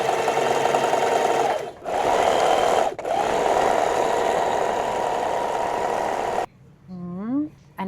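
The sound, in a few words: sewing machine stitching fabric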